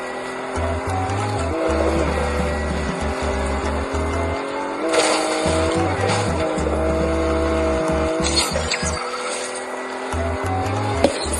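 Car engine in the Fortnite video game, a steady motor drone with rising and falling revs and occasional tire squeal, continuous and fairly loud throughout.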